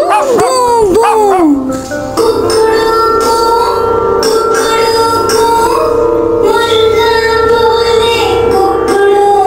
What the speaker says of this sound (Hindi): कुत्ता बोले भू भू भू।